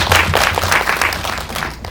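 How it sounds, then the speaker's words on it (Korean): Audience applause at a Korean film screening and talk event, steady dense clapping from a seated crowd filling the room for about two seconds, loud and close, fading slightly at the end. "큰 박수 부탁드리겠습니다"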